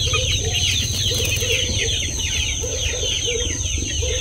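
Breeder chickens cluck and chatter steadily throughout, several birds overlapping close by, with a constant low hum underneath and no talking.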